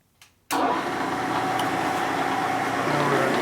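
A Harley S&S 113ci Evo motorcycle engine with belt drive runs loudly and steadily right after a gear change, a sudden onset of dense, even engine noise close by after a brief quiet moment.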